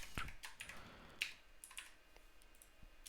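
Quiet, quick typing on a computer keyboard, with irregular soft key clicks in a short burst and no voices.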